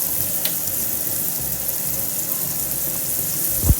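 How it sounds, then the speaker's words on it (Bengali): Chicken pieces frying in hot oil in a kadai, KFC style, giving a steady close sizzle with a brief louder clatter near the end. "গরম তেলে আমি চিকেনগুলোকে ফ্রাই করে নেব"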